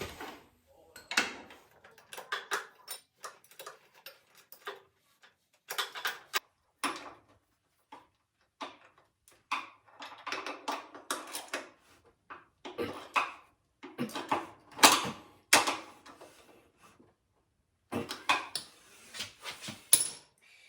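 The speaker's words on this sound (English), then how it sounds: "With a 3/4 socket and a 15/16 open-end wrench, I'm gonna put the mounting bolt on the bottom." A 3/4 socket and a 15/16 open-end wrench tighten a mounting bolt during a 1970 Chevelle rear end installation, giving scattered metallic clicks, clinks and short clanks in uneven bursts separated by quiet gaps.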